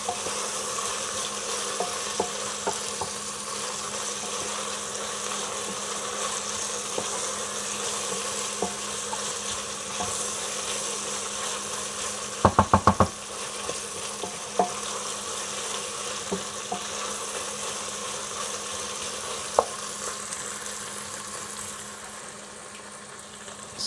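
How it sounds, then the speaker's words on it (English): Vegetables frying in ghee over high heat, a steady soft sizzle running throughout with occasional small clicks and a brief cluster of louder ticks midway, no voices. "So we fry our veggies for like 10 minutes on high heat."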